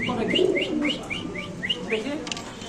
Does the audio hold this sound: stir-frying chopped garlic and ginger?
no